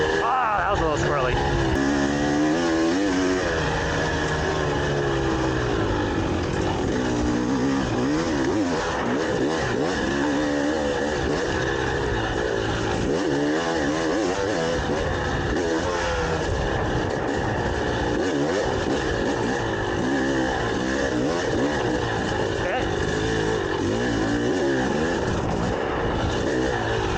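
A motorcycle on IRC VE33 and VE35 all-terrain tires runs at high speed cross-country, its engine a loud continuous drone mixed with heavy wind rush, while a voice speaks over it.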